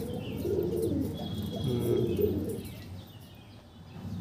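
Andhra pigeons coo close by in soft, rolling low calls that swell and fade twice, with faint chirps above and quiet background noise.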